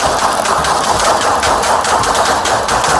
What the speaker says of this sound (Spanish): Más de una docena de disparos resonaron.